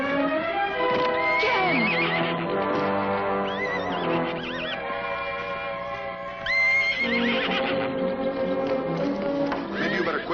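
A horse whinnies and neighs in a drama scene, with shrill rising calls near 6.5–7 seconds, set against a loud, continuous orchestral score that dominates the clip.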